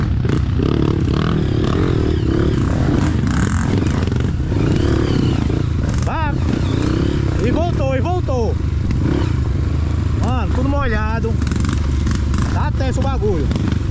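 A dirt bike on a muddy, overgrown forest trail after heavy rain, with engine noise running underneath and repeated revving surges toward the end, loud and close, while people talk and shout over it.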